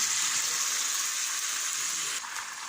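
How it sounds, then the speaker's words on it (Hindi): Chicken pieces frying in hot oil with salt, giving a steady, loud, close hiss of sizzling that holds evenly throughout and dips slightly near the end, with no talking. "चिकन को पहले फ्राई कर लें नमक डाल के"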